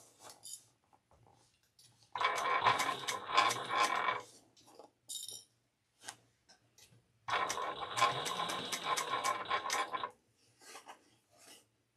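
Two long bursts of metallic clinking and rasping as rivets are set into a handmade travel bag, each lasting a few seconds, separated by quiet stretches with faint handling noises.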